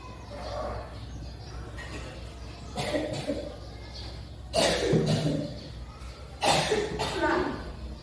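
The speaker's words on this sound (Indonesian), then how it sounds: "Ya, ibu lagi batuk." A woman with a sore, hoarse throat coughs in three separate bursts, each fairly close and sharp, with quieter background noise and faint voices in between.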